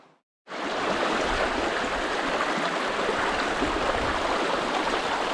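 A small stream rushes in a constant close, full-bodied gurgling wash after a brief quiet start, steady and even throughout with no voices.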